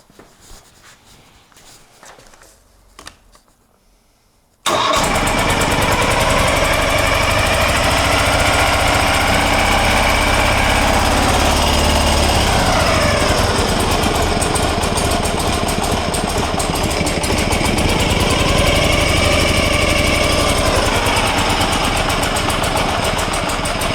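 After a few seconds of quiet handling noise, the engine of a Ural 750 motorcycle fires up abruptly and settles into a loud, steady, rough idle that runs unbroken and close by for the rest of the clip.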